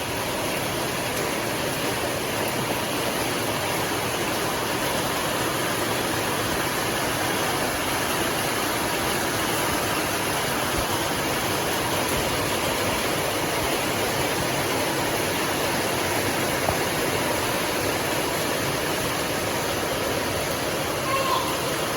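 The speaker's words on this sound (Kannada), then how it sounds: "ಜೋರ್ ಬರ್ಸ" Heavy monsoon rain and flood water in Udupi, Tulunadu, a dense unbroken roar of rushing water and downpour, loud and steady with no pauses for the whole stretch.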